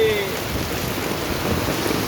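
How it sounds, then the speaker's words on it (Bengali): Heavy rain pours steadily, a dense close hiss with no pauses, briefly joined at the start by a faint tone. "এত জোর বৃষ্টি হচ্ছে"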